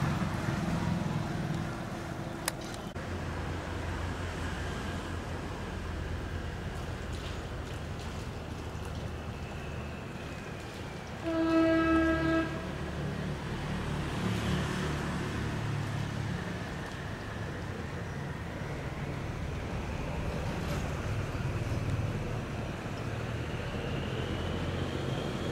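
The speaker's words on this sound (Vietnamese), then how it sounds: "Đang néo bên kia cho anh xà lan này xuống nè" A barge in a narrow canal sends out a low, continuous engine rumble under open-air wind, with one short, loud horn blast in the middle.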